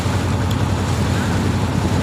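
A trawler boat's engine drones steadily on the water near Rangamati, a dense, unbroken low rumble mixed with wind buffeting the microphone, close and continuous throughout.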